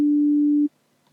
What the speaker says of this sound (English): I think we need a sine wave.